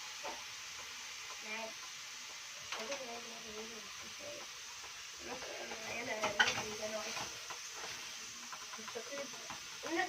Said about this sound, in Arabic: وادي برضو للراس والرقبه تشويح والرجول طبعا